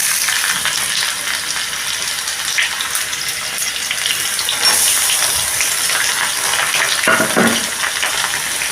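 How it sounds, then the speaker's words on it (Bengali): Chopped onion and green chilli frying in hot oil in a pan for Bengali egg kima, a steady loud sizzle and hiss running throughout with little else heard. "দিয়ে পেঁয়াজটা একটু লাল করে আমি ভেজে নেব, হালকা ব্রাউন করে"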